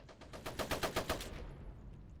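Machine gun fire in the dieselpunk strategy game Iron Harvest 1920, during a night raid. A rapid burst of about eight evenly spaced shots rattles out, then cuts off into a fading tail.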